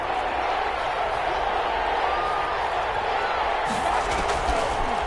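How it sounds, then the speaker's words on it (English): A broad stadium crowd roar from an American football video game on PS4 swells continuously as a big third down approaches, loud and steady throughout. "The crowd getting into it as we come up on a big 3rd down."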